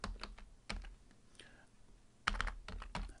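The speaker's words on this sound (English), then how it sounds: "So type in Easy YouTube Download" Fingers tap on a computer keyboard in short clustered bursts of quiet, close clicks separated by brief pauses, entering a search term in a web browser.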